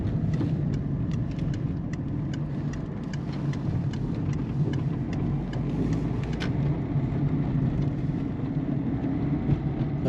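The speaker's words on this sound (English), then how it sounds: "This is my car, a little Peugeot 207, and I hate the clunking." A Peugeot 207 is driven while a steady run of light, regular knocks repeats through the cabin over continuous low road and engine rumble, with no voices.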